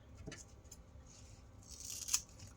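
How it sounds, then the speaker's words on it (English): Scissors cut through velcro pieces with a couple of quiet, crisp snips against a faint room background; no one speaks. "So I'm just going to take these 2 here, and we're going to cut off"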